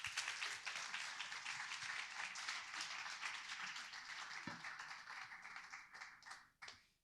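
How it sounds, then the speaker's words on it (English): Sustained audience applause at an evening startup event, a dense wash of many hands clapping steadily for several seconds before tapering off near the end. "So big round of applause."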